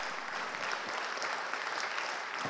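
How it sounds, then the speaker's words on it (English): Conference audience giving a round of applause, a steady wash of many hands clapping at moderate distance, continuous and even for a couple of seconds. "You guys should give yourself a round of applause, seriously, right now."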